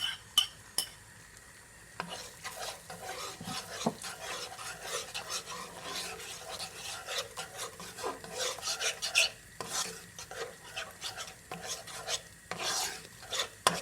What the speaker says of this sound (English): so now I would be frying my egg.